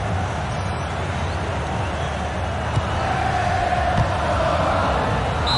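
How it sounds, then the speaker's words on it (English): A stadium crowd roars in FIFA 2004 during an AS Roma versus Juventus match, a dense, steady wash of cheering and chanting that holds loud and unbroken throughout. "Listen to this crowd."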